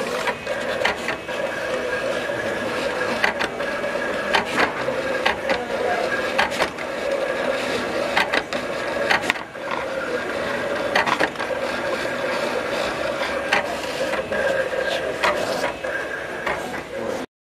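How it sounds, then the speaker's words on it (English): A vinyl cutter at a school maker faire runs continuously, its carriage whirring and clicking in a busy mechanical rhythm with periodic sharp ticks as it cuts, steady and fairly close throughout. "once you're done with that and you have everything set up on your vinyl cutter, you just hit print. And then I'll start printing."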